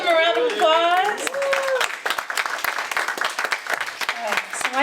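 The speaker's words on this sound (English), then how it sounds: "Give them a round of applause." Audience clapping at a spoken-word poetry event in a community workers' center, rising after voices and cheering at the start, then scattered claps that thin out toward the end.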